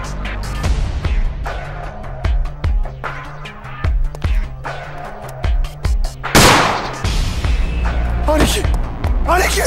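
Gunfire in the Yakuza 4 video game, a single loud shot that cracks out amid a dramatic cutscene, surrounded by repeated thumping impacts, music and spoken dialogue.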